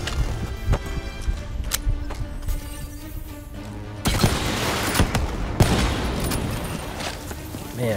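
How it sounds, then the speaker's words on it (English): Rapid gunfire in the video game Call of Duty Black Ops 3, with dense bursts of shots and loud cracks. It is close and intense, and it gets heavier and more continuous in the second half. "How many times must I shoot you in the face?"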